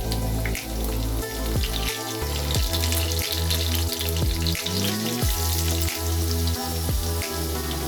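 Potatoes and soya chunks shallow frying in oil in a pan for Bengali soyabean kosha, a steady dense sizzle and crackle running close throughout with occasional clinks of a spoon against the pan.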